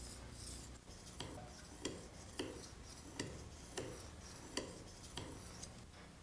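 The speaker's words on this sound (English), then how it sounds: "I'll finish here on the white fine ceramic stone." Honing a plane cutter by hand on a fine white ceramic stone in a woodworking shop: faint, steady rubbing and scraping strokes with soft periodic clicks, quiet and close, no talking.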